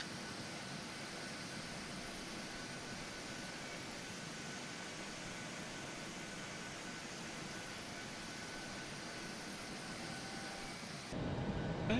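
A Boeing 777 jet passing at an airport, heard as a steady, broad roar of engine noise that holds evenly throughout, with a louder surge near the end.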